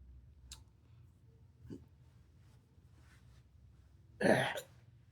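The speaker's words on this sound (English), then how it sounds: "Nicotine hiccups." A single sharp hiccup-like burst from someone using a Zeo Universe menthol evergreen nicotine pouch, preceded by a faint click and a softer vocal catch, over quiet room hush.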